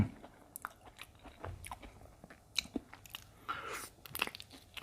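Someone eats soft, ripe Thong Pha Phum durian flesh close to the microphone, with quiet wet chewing and smacking sounds in an irregular rhythm and small murmurs between bites.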